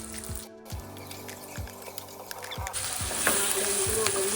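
Dabeli masala and potatoes frying in hot oil in a home kitchen, a steady close sizzle with repeated low thumps of stirring, the hiss brightening and growing louder near the end.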